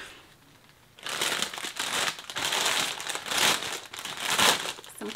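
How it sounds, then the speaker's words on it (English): Plastic packaging crinkles close by in a burst of irregular, crackling rustles that starts suddenly and continues loudly with uneven pulses, without any talking. "Crinkling, you know that means exciting things."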